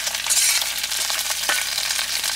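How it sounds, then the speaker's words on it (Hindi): Paneer sizzles as it half-fries in a pan at a winter forest campsite in Himachal, a bright, steady hiss with a few soft scrapes and clicks, close by and without talk. "डाल दो, हाफ फ्राई करके निकाल देंगे।"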